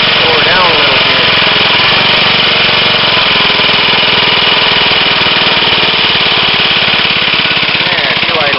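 A 1965 Briggs lawnmower engine runs close up, loud and continuous, with a rapid, rough, chugging beat that holds steady throughout as it idles.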